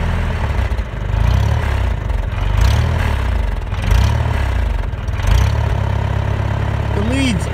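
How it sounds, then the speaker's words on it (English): A tractor engine idles steadily at a lowered idle speed, a close, continuous low rumble with slight clatter, and faint voices beneath it. "I just dropped the idle."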